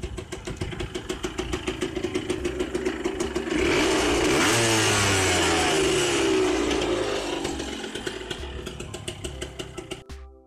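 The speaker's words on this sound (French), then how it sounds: "Là je vous montre un de ses premiers démarrages." Homemade mini motorbike with an 80 cc engine and a 19 mm carburettor starting up: a steady, buzzy idle that climbs into loud, sustained revving mid-clip, then settles back down before cutting off, close by with no talking.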